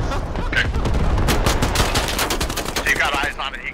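Close, rapid automatic gunfire in the video game Squad rattles out in quick bursts, loud and steady, with brief voices over the shooting.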